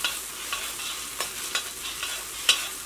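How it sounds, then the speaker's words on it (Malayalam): Vegetables being stirred in an uncovered pan of sauce for homemade rice-powder noodles: faint scraping strokes at irregular intervals over a soft, steady background sizzle, with no voices. "ഇങ്ങനെ തുറന്ന് വെച്ചിട്ട് ഇങ്ങനെ ഇളക്കി കൊടുക്കാം"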